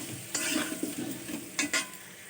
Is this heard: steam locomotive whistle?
no